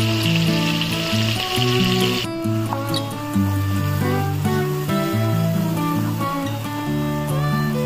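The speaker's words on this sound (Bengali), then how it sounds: "এবার পনিরটাকে ভেজেছে, আর পনির ভাজার জন্য অনেকটাই তেল দিতে হয়" Paneer pieces fry in a generous amount of oil, giving a constant crackling sizzle that runs under a steady melody.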